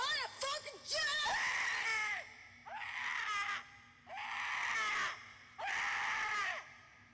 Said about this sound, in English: Yes, that's me screaming